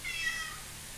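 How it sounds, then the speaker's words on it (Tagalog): A pet cat lets out a single short, fairly loud meow close by, with no other sounds around it. "Ang ingay naman ng pusa ko."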